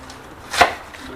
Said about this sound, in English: I'm roughly chopping the lettuce.